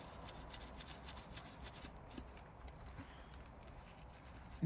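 Gunk being scraped off the back of a broken Game Boy, a steady, close, gritty rubbing and rasping that runs continuously without speech.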